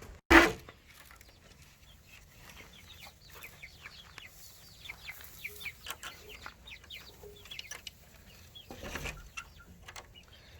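Backyard chickens and a rooster cluck softly in short, scattered bursts, with a sharp knock near the start and a low ambient hum underneath.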